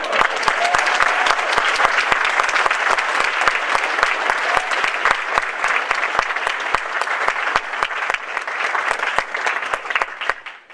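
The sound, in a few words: audience applause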